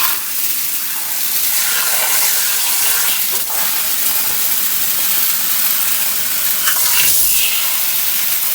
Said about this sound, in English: now I got the water hose